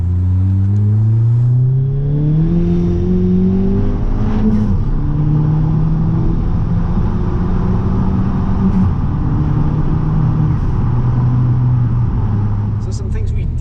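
Ford Fiesta ST Stage 2 engine with a dual-port Turbosmart blow-off valve, loud and close: rising engine pulls through several gears with shift breaks, and a faint flutter near the end.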